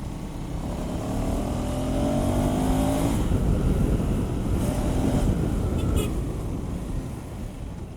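A KTM 390 Adventure X motorcycle accelerates on a road in the rain, its engine note rising steadily under heavy wind and road rush that stays loud throughout.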